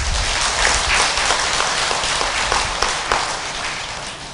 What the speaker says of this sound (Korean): 박수를 올립니다.